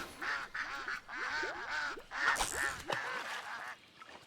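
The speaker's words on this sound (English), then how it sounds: "I hear ducky ducks." Cartoonish ducks quack in Disney Dreamlight Valley, a lively run of repeated nasal quacks, several in quick succession, close and clear with no talk over them.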